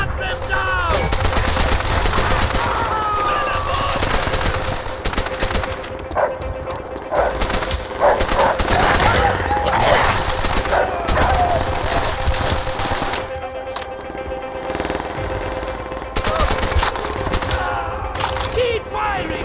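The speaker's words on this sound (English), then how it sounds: "Keep firing! Our friends below need cover!" Rapid gunfire from a World War II battle in the Call of Duty: World at War campaign crackles continuously with dense automatic bursts and scattered shots, loud and close, while soldiers shout orders over the fighting.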